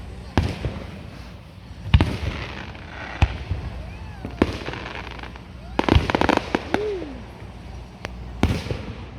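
Fireworks go off nearby in a string of sharp bangs and crackles spread unevenly across the stretch, with some whistling streaks, as people talk in between.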